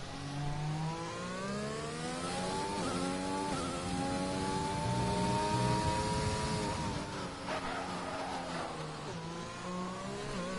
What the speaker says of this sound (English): you could hear the lock-up of the brakes there as he broke into that tricky double left-hand braking zone